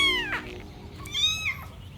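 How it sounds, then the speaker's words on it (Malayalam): A cat meows twice, a short rising-falling cry followed by a longer, drawn-out one, moderately close and clear over a quiet indoor background. "വഴിയിലെങ്ങാണ്ട് കിടന്നിരുന്ന പൂച്ചയാ."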